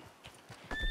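Horse hooves clip-clopping in the Red Dead Online video game, a short run of rhythmic soft thuds that grows louder near the end, with a thin electronic tone briefly layered over it.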